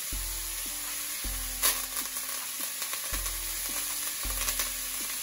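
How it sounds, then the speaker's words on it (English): Butter and thyme sizzle steadily in a hot pan beside a ribeye steak, a close, continuous frying hiss with a few brief louder spits and no talking. "I'm gonna take my butter and thyme and drop it in the pan to get some additional flavor on that steak"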